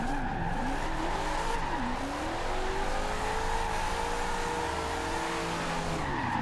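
A Chevrolet Corvette drift build in the racing game Forza Horizon 2 holds a steady, loud engine drone through the whole stretch, its pitch sliding up and down with gear changes and mixing with tire squeal.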